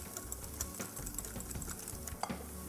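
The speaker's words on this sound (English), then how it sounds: "I'll whisk it all together." Cashew nut and melon seed paste whisked in a bowl for a chicken korma sauce, a busy run of quick scraping, rattling strokes filling the whole clip at close range.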